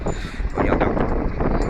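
Gusty wind buffets the microphone outdoors on Lanzarote during a camel ride, a continuous low rumbling roar that swells and stays loud throughout, with someone speaking briefly over it.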